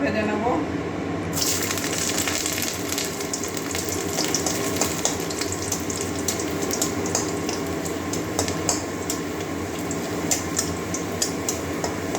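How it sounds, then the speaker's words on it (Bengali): Ingredients for a Bengali cabbage leaf paste, including dried red chillies, fry lightly in a pan with a steady close sizzle and crackle throughout, while a voice talks over it. "হালকা ভেজে নেবো"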